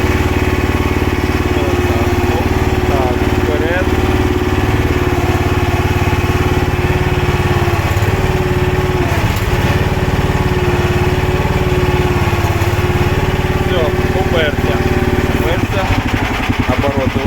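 A homemade Toytraktor mini skid-steer loader runs its engine hard, a loud, steady mechanical drone that continues without a break, with brief dips in load as it drives and works, while someone speaks over it.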